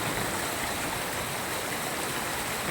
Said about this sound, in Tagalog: Sobrang lakas ng tubig dito.